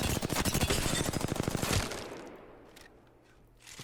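An R301 rifle fires in the Apex Legends video game, a rapid automatic burst of sharp shots lasting almost two seconds, then fading into quiet game ambience with a faint clatter near the end; no one speaks.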